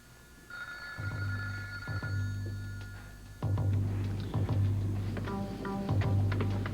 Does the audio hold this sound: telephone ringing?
yes